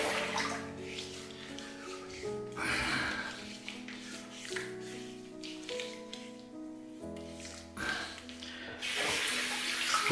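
A bathroom tap runs steadily while water is splashed onto the face during a wet shave, with irregular splashes and a shifting gush close by, with no one talking.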